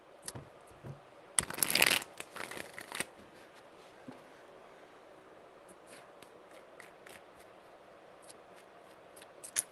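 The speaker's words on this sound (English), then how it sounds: "Three shuffles." Tarot cards are shuffled in a quiet room: one brisk, crisp riffle lasting about a second and a half, followed by faint scattered taps and card handling.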